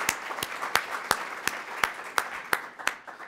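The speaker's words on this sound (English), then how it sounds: "a round of applause" Audience applause at a civic talk: about ten sharp, evenly spaced claps in a steady rhythm, fairly quiet and sparse rather than a full ovation.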